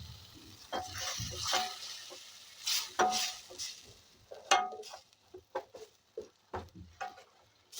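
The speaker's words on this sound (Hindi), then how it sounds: "ये देखिए हम इसको इसी तरह से अच्छी तरह से हम भून लेंगे।" Ground masala being stirred and roasted in a pan for UP-style matar nimona, with soft intermittent sizzling and several scraping stirs of a utensil against the pan, close and moderately quiet, with no talking.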